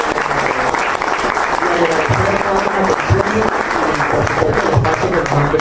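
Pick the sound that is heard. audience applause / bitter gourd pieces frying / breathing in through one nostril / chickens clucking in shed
audience applause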